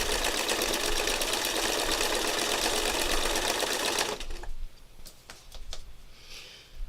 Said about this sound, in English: I just have regular sewing thread in the machine